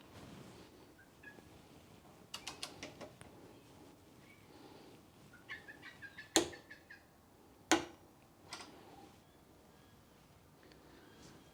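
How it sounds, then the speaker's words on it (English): A torque wrench tightens cross member bolts on a Triumph Trekker pannier kit, giving a few faint ticks followed by two sharp, distinct clicks against a quiet background with no talking. "I'm going to torque these two as well to 20 Newton meters."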